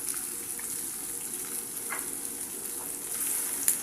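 Chicken liver sizzles in a pan, a soft, even frying hiss close by with faint stirring clicks and a small sharp tap near the end.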